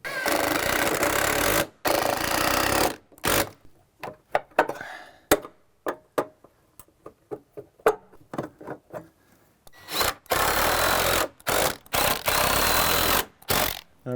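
A power drill drives screws into a metal joist hanger on a sagging wooden deck. Loud bursts of drilling come up close, broken by gaps of clicks and knocks.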